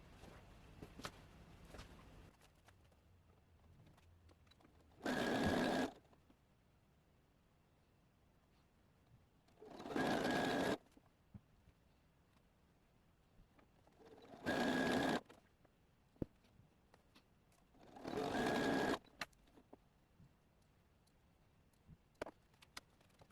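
A sewing machine stitches along the edges of a Christmas vest in four separate bursts of rapid mechanical whirring, each about a second long. Quiet gaps fall between the runs, with small ticks and handling sounds.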